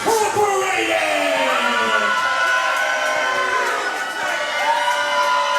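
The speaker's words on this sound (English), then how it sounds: "The McClenny crowd here letting their voices be heard as they show their disapproval of the Tag Team Champions" Wrestling crowd at a McClenny independent show jeering the DCCW tag team champions, a loud mass of shouts, yells and wavering vocal boos layered together continuously, with voices rising and falling throughout.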